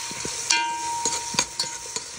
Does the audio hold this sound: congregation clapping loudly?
no